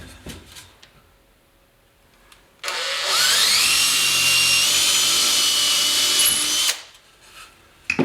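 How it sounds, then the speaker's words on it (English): A power drill pre-drills a hole into a wooden 45-degree brace for garage shelving, a loud whining burst lasting about four seconds with the pitch climbing as it bites, framed by quiet room noise. "I'm just going to go down 2 inches and pre-drill that hole"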